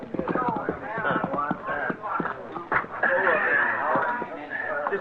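Horses ride up to a chuck wagon on the frontier in an old western radio drama. Hoof clip-clops patter along under voices talking throughout.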